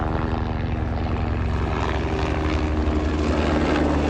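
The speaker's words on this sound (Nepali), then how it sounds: "हेलिकप्टर नि आउँदो रहेछ है।" A helicopter passes overhead on the Ghorepani Poon Hill trek in Nepal, its rotor producing a steady, loud, pulsing thump and engine drone throughout.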